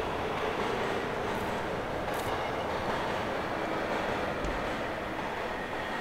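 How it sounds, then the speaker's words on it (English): A train passes in a video game, giving a loud, steady rumble that holds without a break from start to finish, with faint clicks and clatter mixed into the continuous noise. "There's the train."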